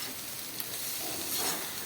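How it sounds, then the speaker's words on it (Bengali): Potatoes frying in a pan at home, a steady, dense sizzle with a constant bright hiss that swells slightly near the end, with no speech. "তো এখন আলুটা ভাজছি, আলুটা ভেজে সকালে খাওয়া দাওয়া করে নেবো।"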